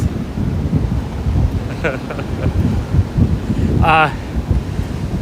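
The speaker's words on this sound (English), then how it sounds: "Oh, the wind is blowing." Gusty wind blowing through a rainstorm on a night street in Williamsburg, Brooklyn, a loud rumbling buffet against the microphone with steady rain underneath and a brief tonal squeal near the end.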